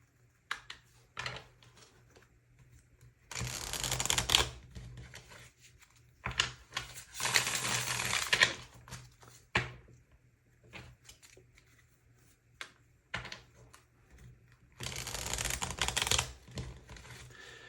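Tarot cards are shuffled by hand in several separate bursts of rapid riffling and flapping, each a few seconds long, with quiet handling taps between them and no talking.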